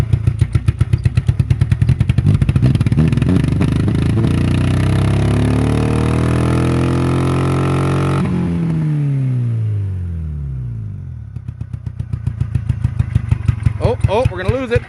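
A failing Honda Civic engine runs rough on one cylinder: it shakes and chugs in uneven pulses, sags and nearly stalls, then catches and picks up again, its clattering beat close and loud.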